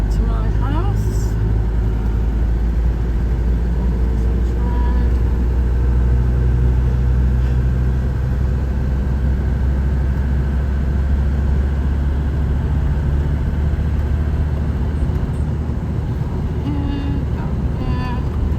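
A car driving along a residential road near Constantia vineyards in Cape Town, heard from inside as a steady low engine drone and road rumble, with a person talking over it.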